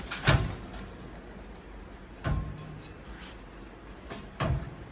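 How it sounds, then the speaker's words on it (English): The folding metal entry steps of a 2015 Heartland Prowler 30RLS travel trailer are pulled down, producing three separate clunks spaced about two seconds apart against quiet outdoor background. "and fold down your steps"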